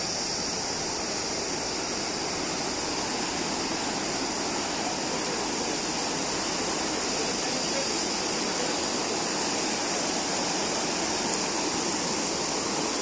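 Water rushes loudly and steadily, a dense, unbroken roar like a waterfall or fast stream heard up close, with no voices.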